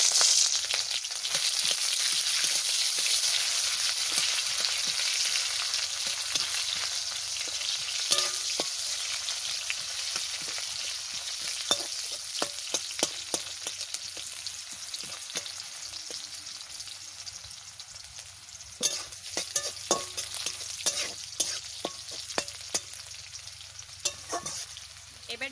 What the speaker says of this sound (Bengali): এবারে আমি পেঁয়াজ দিয়ে দিচ্ছি।